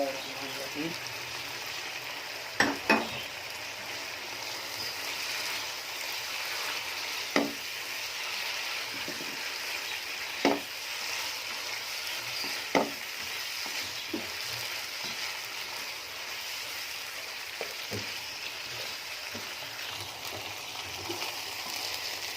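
Kachnar buds stirred into chicken in a pot and fried over high heat: a constant soft sizzle with occasional sharp clicks of a spoon against the pot.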